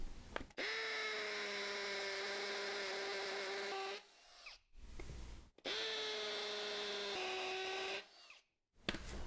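Power drill with a bit boring a hole into a floor while installing a pocket door, two long steady whining runs separated by a brief pause, close and fairly quiet, with no talk.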